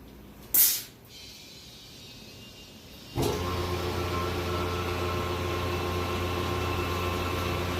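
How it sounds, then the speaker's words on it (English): Blender motor switching on after a brief hiss and click, then running with a steady, loud whirring hum that fills the rest of the clip. "that's when your blender motor will turn on"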